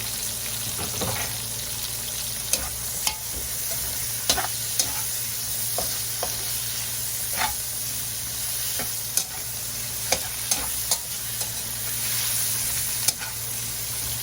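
Garlic sautéing in a little oil in a pan, a constant bright sizzle with sharp, regular taps and scrapes of a utensil against the pan.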